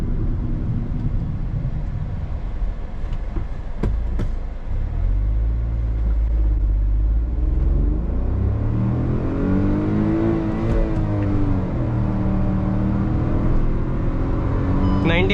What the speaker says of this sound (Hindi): चलो एक 0 to 100 फिर भी मैं एक बार फॉर्मेलिटी के लिए करके देख ही लेता हूँ।